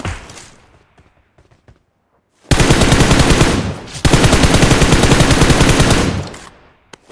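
Gunfire in PUBG, two long rapid automatic bursts roaring loud and close, separated by a brief gap and preceded by quieter scattered noise.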